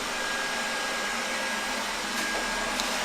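A Xiaomi Roborock S50 robot vacuum cleaner runs indoors with a steady, even whirring hiss and faint high whine, continuous and close, with no talking.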